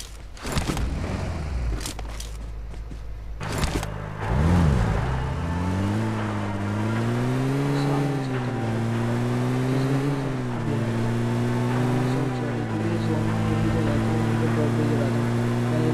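A vehicle engine drives steadily in PUBG Mobile, a low humming drone that rises and falls in pitch as it accelerates and turns, following a few sharp clicks and bursts at the start.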